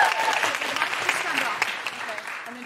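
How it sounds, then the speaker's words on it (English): A live podcast audience gives a big round of applause for a guest named Sharon. The clapping is loud and full and holds steady before tapering slightly at the end, with some voices mixed into the crowd. "Big round of applause for Sharon."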